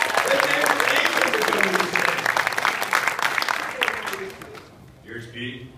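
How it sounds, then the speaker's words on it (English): Loud audience applause and cheering at a Fitcon 2014 fitness convention introduction, a dense sustained clapping that tapers off near the end as a voice begins. "Give these guys a round of applause."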